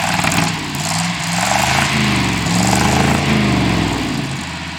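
A loud Chevrolet C65 truck engine with a new exhaust runs steadily and swells in pitch a few times as the throttle is blipped, close up and continuous.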